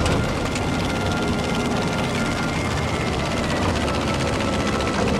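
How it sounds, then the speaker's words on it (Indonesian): An aircraft approaches during a Battlefield V dogfight over Japan, a loud, steady engine drone with a dense roaring rumble that fills the whole stretch without pause or talk. "ada pesawat lagi datang."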